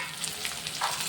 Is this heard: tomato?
yes